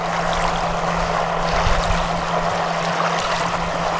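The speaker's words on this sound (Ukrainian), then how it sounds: "корабик вже раз 50 поїхав на точку." Remote-controlled bait boat for carp fishing on the Dniester river, heard as a steady motor hum with a constant tone over continuous water rush and lapping, fairly close and unbroken throughout.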